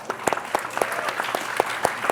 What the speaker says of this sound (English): A round of applause, everybody.